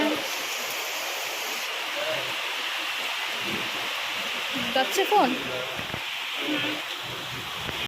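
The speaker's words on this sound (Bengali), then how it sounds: "বাইরে প্রচন্ড বৃষ্টি," Heavy rain pours down outside, a steady broadband hiss that fills the background as people talk nearby.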